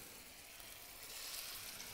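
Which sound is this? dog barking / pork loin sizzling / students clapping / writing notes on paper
pork loin sizzling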